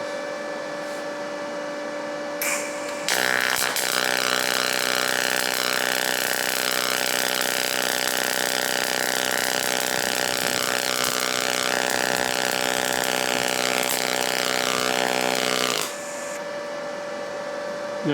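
A Yeswelder (Firstess) DP200 pulse MIG welder welds steel. It makes a steady, loud buzzing crackle that starts abruptly, runs for about thirteen seconds and then stops, with faint hum before and after.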